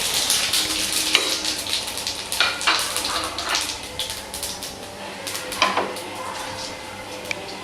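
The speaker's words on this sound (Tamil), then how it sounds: "நல்லா எண்ணெய் காய்ச்சதுனால சீக்கிரமாக பொரிஞ்சிருச்சு" Whole spices, including fennel, crackle and sizzle in hot oil for a chicken gravy, close and steady, with sharp pops and occasional stirring clinks from the pan.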